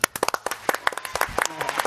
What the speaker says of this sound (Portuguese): Quem acha que o Flavinho foi bem, bata palmas